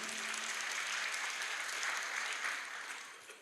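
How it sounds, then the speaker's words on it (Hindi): An audience at a religious discourse breaks into sustained applause, a steady wash of clapping that tapers off toward the end, heard at a distance. "एक बार इनके लिए जोरदार तालियां बजाइए।"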